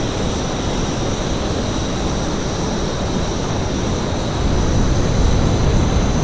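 An airplane engine drones loudly and steadily during a stalled takeoff at a practice airshow. The broad roar swells slightly toward the end, and there is no talking.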